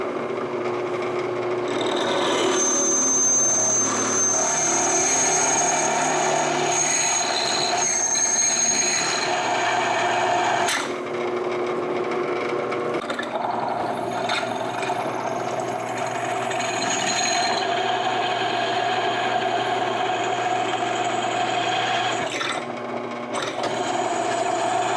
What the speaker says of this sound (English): And I'm ready to start drilling.